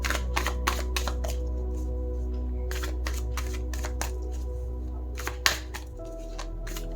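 Tarot cards being shuffled by hand, with crisp bursts of riffling and flicking over a steady low hum.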